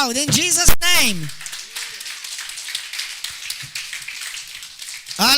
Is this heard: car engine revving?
no